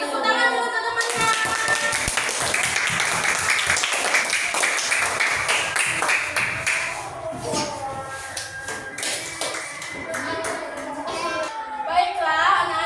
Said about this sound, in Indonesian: Tepuk tangan dulu teman-temannya.